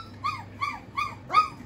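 A very young German Shepherd puppy, still crawling on its belly, lets out four short, close whimpers at an even pace, with quiet pauses between each fussy cry.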